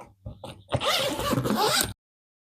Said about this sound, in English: This is the extending zipper,